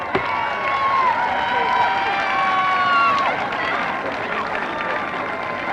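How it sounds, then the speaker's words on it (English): A crowd at the Lorain High School class of 1988 commencement claps and cheers, with a sustained roar of applause, whistles and raised voices throughout. "Let's have a big round of applause for this class of 1988"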